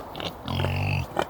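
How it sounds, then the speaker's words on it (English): Large farm pigs give a short, close, nasal oink of about half a second, with a few quieter grunts before and after it. "Big pigs."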